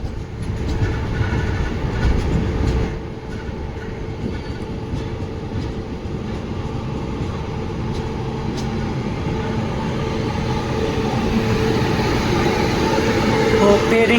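A passing train running from Nanded to Yeshwantpur roars steadily and continuously at close range, with rumbling wheels and faint rail clatter that build slightly toward the end.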